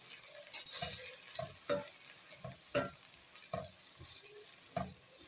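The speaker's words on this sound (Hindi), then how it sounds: "और ये हम अपना जीरा डालेंगे इसमें और इसको अच्छी तरह से मिक्स करेंगे।" Cumin seeds being stirred into a sizzling mixed-vegetable pan with turmeric, with a steady frying hiss under repeated scraping strokes of a spoon roughly every half second, close and moderately loud.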